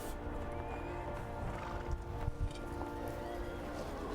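A horse neighing in the Lord of the Rings Online video game, a whinny set within a dense, busy game soundscape with low rumbling and faint hoofbeats, moderately loud.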